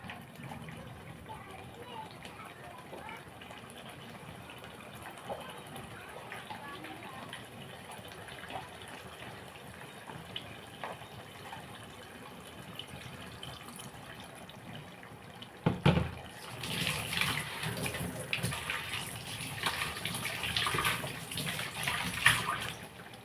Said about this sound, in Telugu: ఇందులో మనం ఇప్పుడు కొంచెం వాటర్ వేసుకుందాం